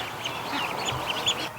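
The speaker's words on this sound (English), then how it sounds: "Come on, ducks!" Several ducks quack and chatter as they head into their pen, a busy cluster of nearby calls with no talking.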